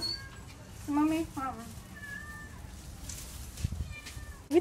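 A cat at a Jamaican home gives a few short, high meows against a quiet background, with a faint rumble and murmur late in the clip.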